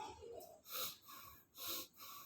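A voice imitates the heavy, wheezy breathing of a sleeper: two slow, loud, close breaths, each a drawn-out rasp with a quieter hiss between them.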